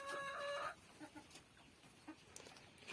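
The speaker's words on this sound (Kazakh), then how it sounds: "Тауықтар." Chickens cluck on a poultry farm, with a burst of loud, tonal clucking and calls at the start, then softer scattered clucks and rustling nearby.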